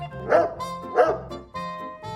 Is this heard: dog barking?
yes